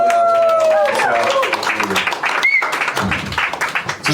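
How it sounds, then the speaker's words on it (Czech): An audience at a live stage show breaks into applause; scattered, uneven clapping builds after a brief tonal sound at the start, with voices mixed in. "Prosím ještě jednou velký potlesk pro Martina"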